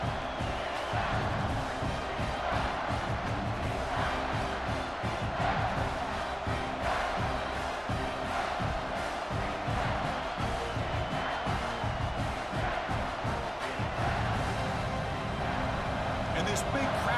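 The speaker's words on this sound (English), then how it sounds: "this big crowd doing everything possible to inspire this defense down here near the goal line" A large football stadium crowd roars in a steady, dense wall of cheering and yelling as the defense holds near the goal line, with a commentator's voice underneath.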